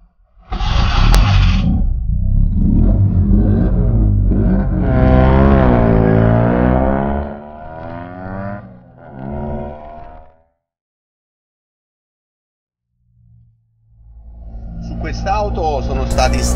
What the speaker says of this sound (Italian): Iniziamo la prova di questa meravigliosa 500.